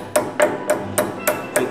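A small hammer taps the end of a cotter pin on a Toyota Tacoma CV axle: six sharp metallic strikes at a steady, roughly even rhythm, close and clear with no talking.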